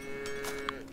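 A single short, low moo from a cow in Farm Together 2 sounds over a soft ambient farm background, brief and moderately clear.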